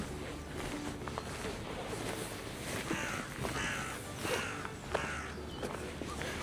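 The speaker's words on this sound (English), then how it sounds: "We got ominous birds." Crows caw at a castle in Killarney, Ireland, with several harsh calls spaced across the clip over steady outdoor noise and scattered footsteps.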